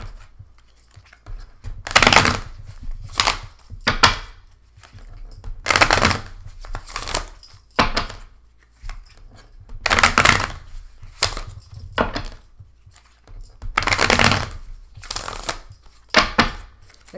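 Stiff tarot cards being shuffled by hand in repeated bursts of riffling and flapping, each lasting about a second with short pauses between, close and fairly loud with no talking.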